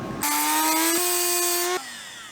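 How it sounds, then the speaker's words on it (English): A Dremel rotary tool grinds stainless steel into a point, a steady high-pitched whine with a slight pitch jump partway through, running loud and close for about a second and a half before winding down. "now I'm going to switch over to using a Dremel and just shape this into a nice point"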